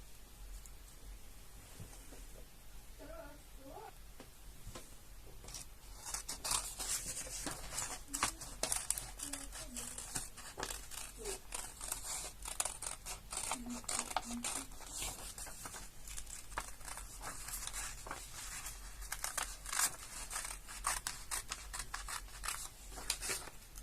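Scissors cutting paper for a children's polar bear craft, a quiet stretch then rapid repeated snipping and rustling paper close up, with brief faint talk.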